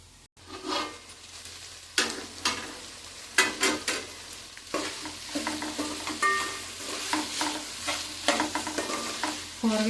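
Vegetables cooking in a covered pan for vegetable pulao, a soft steady sizzle punctuated by bursts of stirring and scraping against the pan, with no talk.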